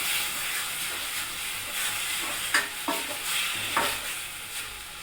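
Ingredients for Hyderabadi-style biryani frying in a pan, a continuous soft sizzle with a few scraping stirs, close by and moderately quiet.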